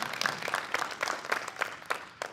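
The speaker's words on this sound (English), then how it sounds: "Let's give Ryan a round of applause" An audience applauds a third-place documentary winner at a university communication studies media showcase: a thin, fairly quiet patter of scattered claps with a few sharper individual hits, heard without speech.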